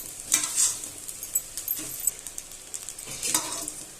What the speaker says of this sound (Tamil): இது போல நல்லா மாங்காய் சோத்தோட மிக்ஸ் ஆகிற மாதிரி கிண்டிக்கோங்க